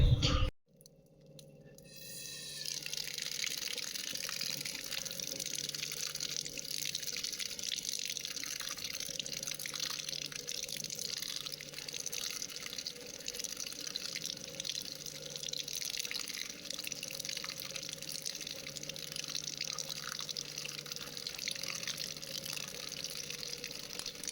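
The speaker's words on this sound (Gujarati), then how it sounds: "તો સૌથી પહેલાં આપણે એને પાણીમાં વોશ કરી લઈએ" Tajalia bhaji, a leafy village green, is washed in water. A steady, even wash of running and splashing water keeps up throughout after a brief knock at the start, with no talking.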